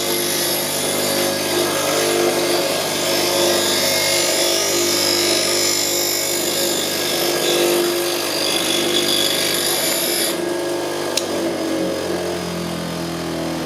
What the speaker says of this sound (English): I'll go back over here to my grinder. Just touch it up a little bit.